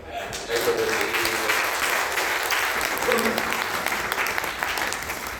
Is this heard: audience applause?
yes